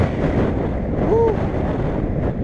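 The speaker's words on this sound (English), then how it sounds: "Boy, the wind is kicking up." Wind roaring into the microphone during a bicycle ride through a suburban neighborhood, a steady, loud, rumbling rush that holds for the whole stretch with no pause.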